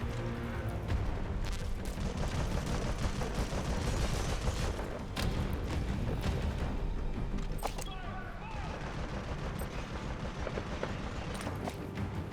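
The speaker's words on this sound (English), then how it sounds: "Where are they shooting from?" Gunfire in Metal Gear Solid V: The Phantom Pain: rapid, overlapping shots crackle continuously over a rumbling battlefield din, with occasional sharper cracks standing out and voices talking underneath.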